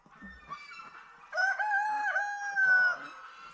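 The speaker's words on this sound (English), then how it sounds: "That is a silky frizzle." A silkie frizzle chicken calls close by with a drawn-out, tonal vocalization that swells louder midway, following softer clucks at the start.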